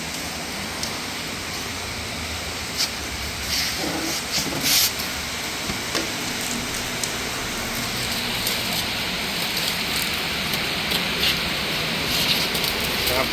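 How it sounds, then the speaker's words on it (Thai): Steady rain falls outside a shop selling diesel engines, a constant broadband hiss that continues without pause, with faint scattered knocks and drips on top. "ฝนตกด้วยนะครับ"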